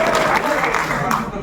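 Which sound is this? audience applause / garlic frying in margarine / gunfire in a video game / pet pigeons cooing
audience applause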